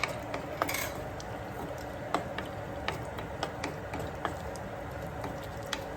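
Raisins going into a pan for apple kesari make scattered light clicks and small ticks, with occasional soft stirring taps over a quiet, steady background hiss.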